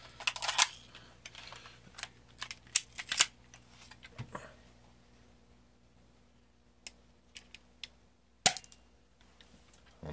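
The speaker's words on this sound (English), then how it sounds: "Let me shoot one at close range so you can see it actually coming out of the..." A spring-loaded airsoft 1911 pistol fires BBs through a chronograph, with sharp, isolated snaps spaced irregularly and a few quieter clicks and handling noises between them.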